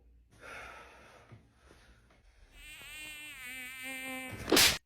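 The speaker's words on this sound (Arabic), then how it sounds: "دبانة مستفزة قاعدة بتزني من بدري" A housefly buzzes indoors in a comedy sketch, a thin whining drone with wavering pitch that grows closer and louder, ending in a sharp loud burst, with breathy sounds early on.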